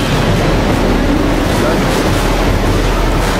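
Floodwater of a rising jungle river surges in a loud, continuous rushing roar, heavy and close, with wind buffeting the microphone and no talk over it.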